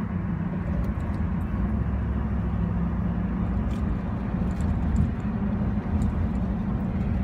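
Steady low rumble of a Ford F-150 pickup cruising in fifth gear with a transmission fault, cabin drone constant throughout with a few faint knocks and rattles from bumps in the road.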